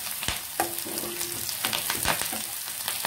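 Onions sautéing in oil with curry leaves, golden brown in the pan, a constant close sizzle with scattered clinks and scrapes of stirring, moderately loud and without talk.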